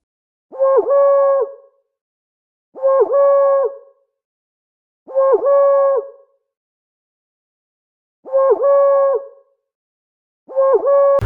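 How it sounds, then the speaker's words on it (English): An owl hoots five times in a steady, evenly spaced rhythm, each hoot a clear, hollow, wavering call about a second long, close and isolated against silence. "Owl."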